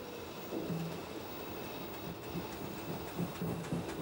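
Steam locomotive 03 001 of the Reichsbahn moving to couple onto its train bound for Dresden, a steady low rumble of running gear with soft rhythmic chuffs and clanks, moderately distant, with no voices.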